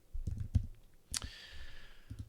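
A few light clicks of typing on a computer keyboard, sparse taps spread across a quiet moment with a brief swish in between.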